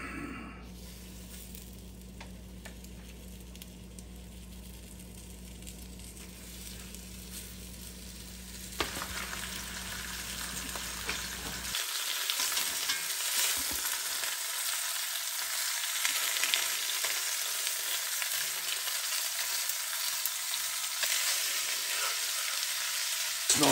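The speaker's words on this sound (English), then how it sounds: "it's time to brown the rabbit." Rabbit meat browning in a pot for a camp-style rabbit stew, a steady close sizzle and frying crackle that grows louder and denser once the meat hits the hot fat, with occasional stirring.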